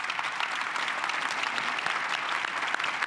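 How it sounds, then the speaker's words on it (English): Steady audience applause at the Earl Lloyd Sports Legacy Symposium, a dense wash of many hands clapping at close range, even and sustained throughout with no voices standing out. "Let's give them a round of applause."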